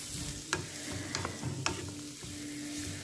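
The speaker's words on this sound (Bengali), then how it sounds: "এইবারে মূলোটাকেও সব শুদ্ধ মশলার সঙ্গে ভালো করে একটু ভেজে নেব।" Radish pieces stir-fried with whole spices for a radish ghanto, a low steady sizzle broken by a few sharp scrapes and clicks of the spoon against the pan, close and without talk.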